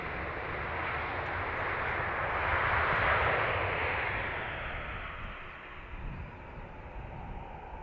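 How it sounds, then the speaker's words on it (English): An aircraft departing Dublin Airport, a broad jet roar that swells to a loud peak midway, then slowly fades into a lower rumble, with no voices heard. "the noise from departures is awesome too"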